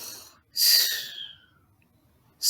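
A voice imitating a snore: one long, breathy, rasping snort that fades out slowly, heard alone and close, with the start of another at the very end.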